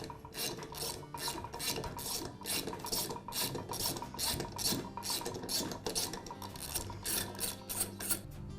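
Bolts being worked loose on a Ridgid air compressor pump during disassembly, giving a steady run of close ratcheting and rasping strokes at an even rhythm, with no talking.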